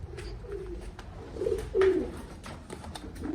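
Low, soft cooing of pigeons, several throaty calls close by, one louder coo near the middle, against faint background rustle.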